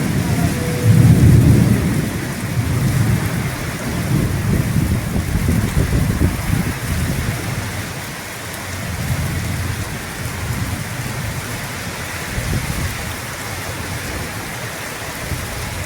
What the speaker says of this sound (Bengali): অনেক দিন পরে এমন বৃষ্টি দেখা পেলাম